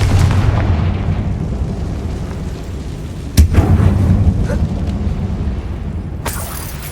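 A Confringo blasting spell in the Hogwarts Legacy video game, cast in a closed-off mine, goes off as one sharp loud burst midway through a deep rumbling game ambience, with a second crack near the end.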